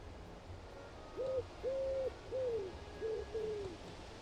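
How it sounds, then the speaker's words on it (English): An owl hoots a series of five low, mellow notes in steady succession, clear and moderately close over soft background hiss and game ambience. "Man, that owl is annoying."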